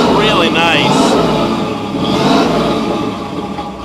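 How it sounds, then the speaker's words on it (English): A 1928 Bugatti replica fitted with a Chevy engine revs loudly at close range, its exhaust roaring steadily, with voices partly audible over the engine. "Car sounds absolutely amazing with that Chevy engine in it."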